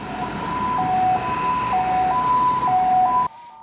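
Ambulance siren at a hospital emergency entrance, a loud, close two-tone wail alternating steadily before cutting off abruptly.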